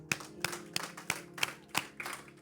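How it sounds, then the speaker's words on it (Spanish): Rhythmic group clapping in a church congregation, sharp claps landing roughly every third of a second in a steady beat, moderately close with a faint background hum. "vamos a dar un aplauso al Señor"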